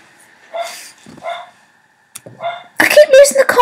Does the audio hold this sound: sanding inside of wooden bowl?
no